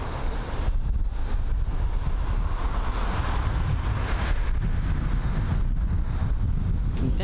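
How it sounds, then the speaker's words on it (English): Wind gusts buffet a microphone at Heathrow airport, a continuous low rumbling roar with rising and falling surges, no talking. "I think we've got a bit of wind going on"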